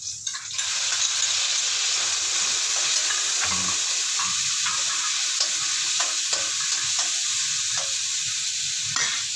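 Garlic, onion and tomato sautéing together in a pan for ginisang patola, a steady loud hiss of frying with scattered stirring scrapes and clicks, close up and continuous.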